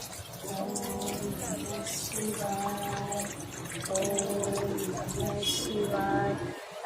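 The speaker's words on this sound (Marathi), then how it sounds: "आता पाणी टाकतो" Water poured over a Shiva lingam during a home Mahashivratri puja, a steady trickling and splashing that runs throughout beneath a sustained chanting voice.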